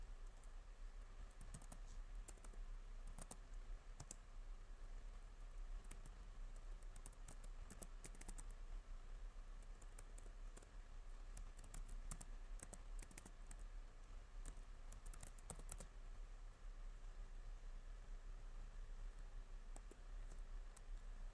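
Quiet keyboard typing while entering a Linux command to change directory, scattered soft key clicks in short bursts over a faint steady hum, with no voices.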